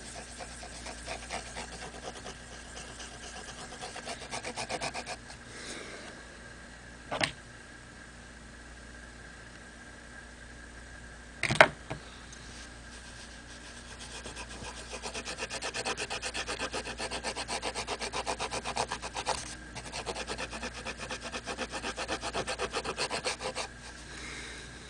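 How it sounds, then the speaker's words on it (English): Rusty, oxidized Nintendo game cartridge contacts are polished in a circular motion, giving a soft continuous rubbing and scrubbing that grows busier in the second half, with two sharp knocks and a faint steady hum underneath. "Sometimes using a circular motion helps because you're polishing them from multiple angles while you're rolling in a circular pattern."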